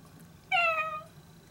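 A person imitates a cat's meow with a single drawn-out, fairly loud meow-like call that rises and then trails off, heard alone against a quiet background.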